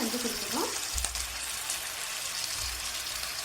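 Chicken frying for Pallipalayam chicken while turmeric masala goes into the pan, a steady sizzle with a brief stirring scrape near the start.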